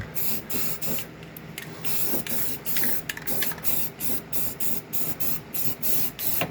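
An aerosol can sprays a quick coat of rust reformer onto the repaired floor pan of a Jeep YJ, a series of short, close hissing bursts in an uneven rhythm.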